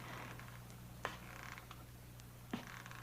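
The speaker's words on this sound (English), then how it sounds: "was it just the creaking of the old house?" Faint creaks from an old house, two brief sharp creaks about a second and a half apart over a steady low hum and quiet background hiss.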